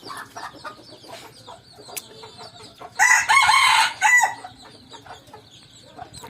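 Chicks and hens clucking and cheeping close by in a yard, with a burst of louder excited clucking in the middle and softer chirps scattered throughout; no talking.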